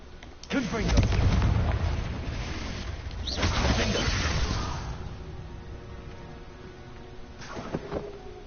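Loud, booming blasts from a Confringo spell in Hogwarts Legacy come in two rumbling bursts close together, followed by a fainter crackle, with a voice speaking around them.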